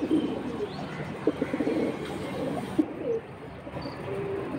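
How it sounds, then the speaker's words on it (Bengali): Pigeons coo steadily at a busy pigeon market, several birds overlapping in a dense, low murmur of coos with a few brief chirps, close and moderately loud throughout. "এইটা মাদি, এটা নর, বানজা কবুতর"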